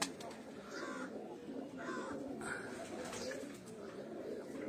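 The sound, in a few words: English pigeons in a fancier's loft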